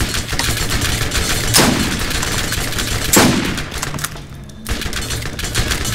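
Shots crack out from a slow-firing gun in Borderlands co-op play: two loud, spaced blasts over constant busy game noise, followed by a brief dip and quieter clatter.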